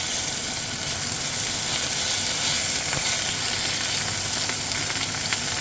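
Ostrich meat and rice sizzle in two pans on a very hot hob, a loud, steady frying hiss with soft crackles throughout and no talking.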